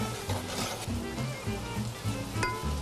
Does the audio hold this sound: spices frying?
yes